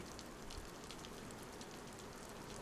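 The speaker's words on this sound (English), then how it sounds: "And it starts raining." Steady rain in the video game DayZ, pattering softly on surfaces, a continuous faint hiss with scattered drops and no voices.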